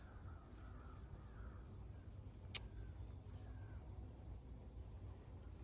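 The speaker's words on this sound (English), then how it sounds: "I love hearing those crows in the background." A few crows caw faintly in the distance outdoors, scattered single calls over a very quiet background with low ambient rumble.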